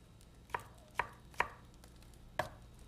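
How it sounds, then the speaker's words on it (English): Vegetables for salsa are chopped with a knife on a cutting board, giving four sharp, separate thwacks at uneven intervals. The cuts are close and clear over a quiet background with no talking. "we are done chopping"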